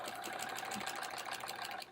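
Sewing machine quilting a thick paper-pieced quilt block, a rapid, even mechanical chatter of stitches close up that slows and stops at the end.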